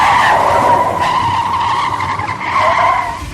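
A car skids off a highway into roadside dirt, a loud, sustained tire squeal lasting several seconds that wavers in pitch, close and alone as a sound effect.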